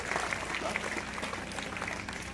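Audience applause at a village felicitation ceremony honouring a young woman, steady dense clapping from a crowd throughout, with faint voices mixed in.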